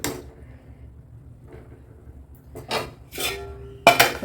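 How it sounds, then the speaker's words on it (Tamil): Clanking metal kitchenware while ragi semiya upma cooks: a low cooking hiss, then a few sharp clinks and a final clatter as a lid goes onto the pan, with no talking. "இப்படியே வந்துட்டு ஒரு 2-3 நிமிஷத்துக்கு அப்படியே வந்து மூடி வச்சிடலாம்."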